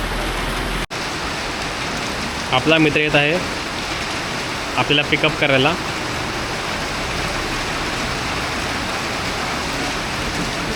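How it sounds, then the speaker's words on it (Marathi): Heavy monsoon rain pours down in Vasai-Virar as a dense, steady hiss throughout, with someone speaking briefly in two short bursts over it. "खूप पाऊस पडतोय"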